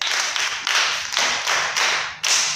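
An audience at a camp event claps together in a loud, close, fairly dense round of applause that rises and dips in several surges.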